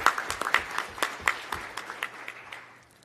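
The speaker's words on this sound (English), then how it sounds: "Please give yourselves a round of applause." Audience at a Florida governor's roundtable clapping, a moderate spread of claps that starts fairly strong and gradually thins and fades away over a few seconds.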